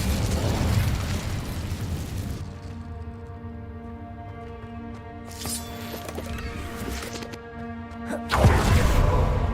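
Incendio fire spells cast in Hogwarts Legacy: loud, roaring bursts open and close the stretch, with a quieter tonal hum and scattered magical crackles in between.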